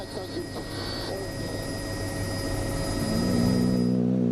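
A helicopter filming a rally stage from the air over vineyards at the 2012 WRC Germany gives a steady rotor and turbine whine, with a commentator talking over it and a rising engine tone near the end.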